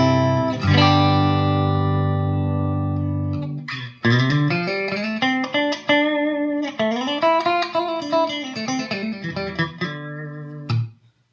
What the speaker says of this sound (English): And so here is a sound of the clean channel.